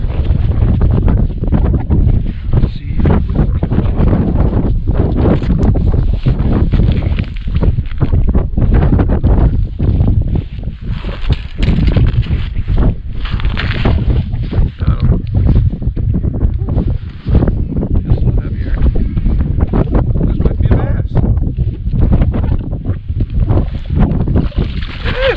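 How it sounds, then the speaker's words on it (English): Strong wind buffets the microphone for the whole stretch, a continuous loud rumble and roar with gusty surges, out on a frozen lake while ice fishing in southern New Hampshire as a front comes through. "Now it's windy."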